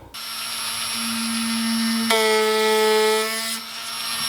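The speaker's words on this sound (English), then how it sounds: "I should be using this instead to gouge out in between" A gouge carves between grooves on an ash wood bowl spinning on a lathe, making a steady close whine and scraping hum that shifts pitch partway through and then eases off.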